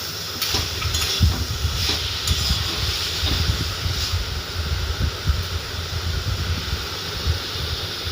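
Potatoes frying in a pan while being stirred for a Bengali banana-flower (mochaghonto) dish, giving a steady close sizzle with scraping and clattering stir strokes throughout, no talk.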